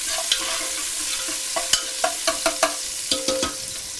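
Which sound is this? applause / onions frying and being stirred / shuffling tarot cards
onions frying and being stirred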